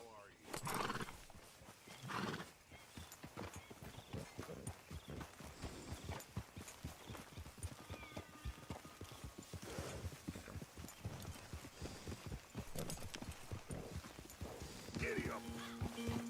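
Horse hooves clip-clop steadily at a walk in Red Dead Redemption 2, with occasional neighs and whinnies, while characters talk over the hoofbeats throughout.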